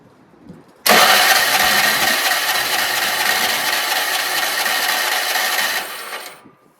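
A Craftsman rear-engine riding mower, running on an oil and gas mix, fires up abruptly and runs loud and steady at close range for several seconds before dying away at the end.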